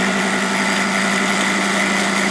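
A tumbler loaded with walnut shell media and eight valve springs runs with a loud, steady, grinding roar, continuous and close with no pauses.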